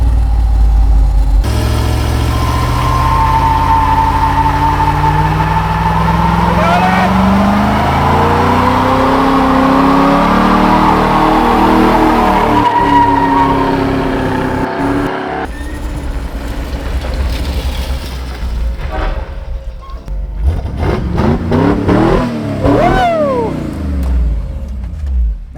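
A 1955 Chevy street car with an 800+ horsepower NASCAR V8 swapped in roars loudly up and down the road, with a long rising pull through the gears, a shift, then rough burbling and more hard revving close by.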